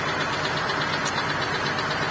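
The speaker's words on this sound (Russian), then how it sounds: "посторонний звук от двигателя" A GAZelle 2775 van engine running with an abnormal extra noise after a timing-chain replacement, a steady mid-pitched idle with a faint repetitive knocking-like texture, recorded close from under the vehicle, without talk.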